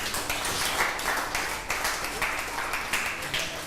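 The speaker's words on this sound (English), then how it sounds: "I think they deserve a round of applause" Studio audience applause on the first eviction show of the Read To Lead Africa reality TV series, a steady wash of many hands clapping throughout, fairly loud and close with no voices over it.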